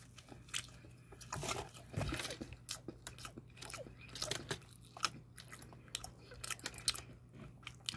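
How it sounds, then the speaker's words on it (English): Close, wet chewing and crunching, a steady run of bites and mashing over several seconds with a low background hum. "Stop making those chewing sounds."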